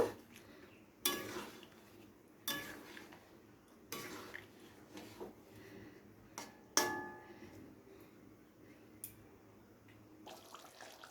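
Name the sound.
paneer being gently stirred and simmered in gravy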